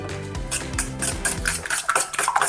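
A fork beats cream, salmon and parsley in a bowl, giving quick clinking and scraping strokes against the dish, close and fairly loud, quickening toward the end.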